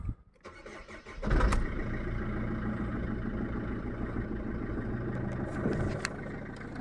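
A Mercedes W211 with an OM646 diesel engine, 346,000 km, cranks and catches, then settles into a loud, rough, steady idle that rattles on close by.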